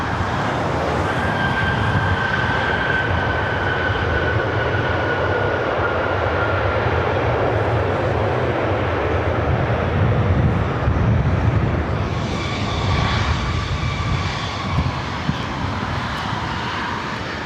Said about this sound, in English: That was WestJet Flight 1430 coming in from Edmonton, Canada, 737-800